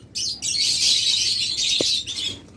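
Caged budgerigars, lovebirds and cockatiels at a bird seller's fill the air with dense, high, overlapping chirping and twittering, with one short lower call partway through.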